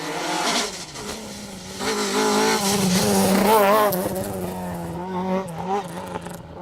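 A 2.5 litre Ford Escort rally car on a rally stage, its engine loud and close, revving hard and rising and falling in pitch as it is driven flat out, with no talking.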